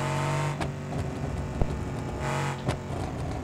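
A modified minivan engine in the BeamNG driving game roars loudly and continuously, a dense rumbling drone with brief surges in revving as the vehicle drives along.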